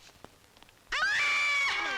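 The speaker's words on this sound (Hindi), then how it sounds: "वो औरत की आवाज नहीं है तो वो हमारी घंटी की आवाज है।" A doorbell with a shrill ring like a woman screaming cuts in after a second of faint background noise, then sustains loudly for about a second with a wavering, wailing tone.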